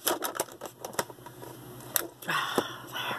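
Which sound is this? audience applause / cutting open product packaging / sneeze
cutting open product packaging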